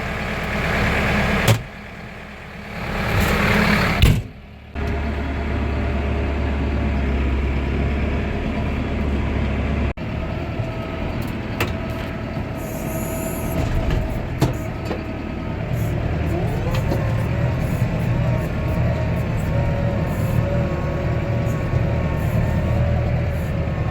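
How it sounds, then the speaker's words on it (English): A large mixer tractor engine idles steadily throughout with a low rumble, after a couple of brief clunks and shifts early on. "we got the mixer tractor started"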